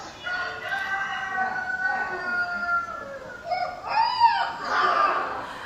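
A dog imitates a rooster's crow on a played recording, several drawn-out wavering calls rising and falling in pitch, fairly close and clear over a faint hiss of room noise, with no talk.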